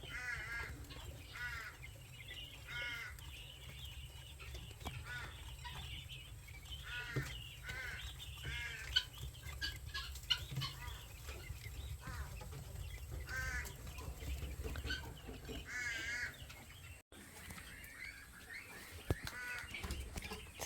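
Quails calling inside a temporary pen, with repeated short bird calls and clucking chatter over a steady low background hum, fairly close and continuous.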